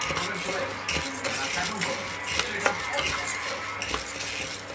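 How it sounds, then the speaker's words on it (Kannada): Chana dal dry-roasts in a pan as a spatula stirs and scrapes it, giving a continuous rustle with irregular metallic clinks and soft scraping, close and without voices. "ಕಡಲೆಬೇಳೆ ಇದನ್ನು ಒಂದು ಐದು ನಿಮಿಷ ಕಳ್ಕೊಂಡು ಹುರ್ಕೋಬೇಕು"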